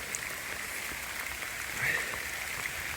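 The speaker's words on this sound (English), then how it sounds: "I've never seen rain like this" Heavy rain pours steadily onto a campsite, a continuous, even hiss of drops with no break and no voices, fairly soft overall.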